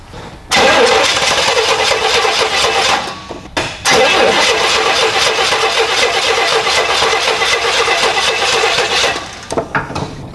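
1967 Jeepster engine cranking and firing into a loud, close rough run, cutting out briefly, restarting and running again before dying with sputters, with faint voices in the background.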